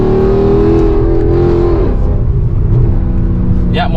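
A Mercedes C63 AMG V8 (6300 cc) accelerates hard on a toll road, a loud, close engine roar that climbs in pitch and then drops as it shifts, with the drone continuing afterward.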